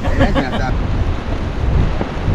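Strong wind gusting by the sea at Casiguran, Aurora Province, a steady loud roar with surf-like rumble, with a brief burst of voices near the start.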